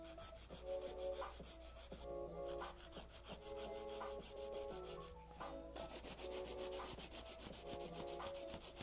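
Nail file rubbing back and forth across fingernails to shape them into a taper square, heard as a close, steady, rhythmic rasping of quick even strokes with one brief pause, with no talking.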